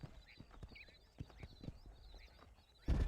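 Horses clop in the Western video game Red Dead Redemption, faint irregular hoofbeats with a soft whinny, ending in a sudden loud burst.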